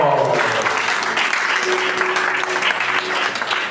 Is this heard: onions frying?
no